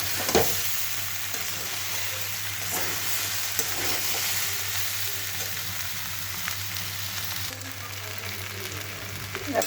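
Food fries in a pan for a Bengali lunch recipe, a constant close sizzle with occasional stirring scrapes and clicks, moderately loud and steady, with no speech.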